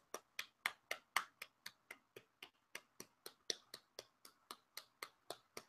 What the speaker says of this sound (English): everyone give Babano the strip club applause